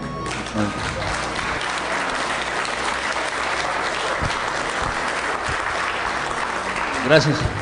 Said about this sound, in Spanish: Queremos pedir un caluroso aplauso nuevamente para nuestro hermano Antonio por la conferencia de hoy día.